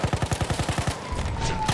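Rapid automatic gunfire in the Battlefield 1 video game, a fast regular burst of loud shots for about a second, then rougher battlefield noise with a faint tone.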